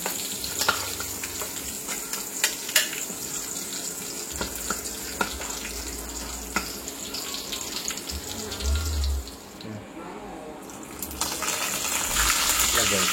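Curry leaves dropped into hot oil left over from frying papdi, giving a steady broadband sizzle with faint clinks, a brief quieter dip, then the frying grows louder toward the end.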